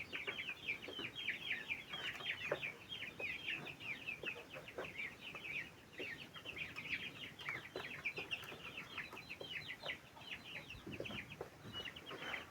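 Newly hatched chicks peep continuously, a dense chorus of high, rapid cheeps from many birds, fairly faint and steady throughout with no talking.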